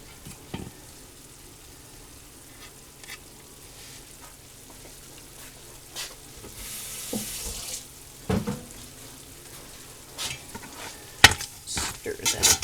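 Green onion and chopped black olive are stirred into enchilada filling in a home kitchen, with intermittent soft scrapes and clinks of a utensil against the pan, faint and sporadic, without talk.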